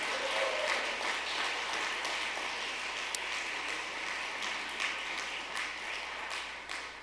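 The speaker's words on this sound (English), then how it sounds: "Let's also give a round of applause for all the great volunteers" An audience at a county school food forum applauds the volunteers with steady, dense clapping that continues alone for the whole stretch, with no speech over it.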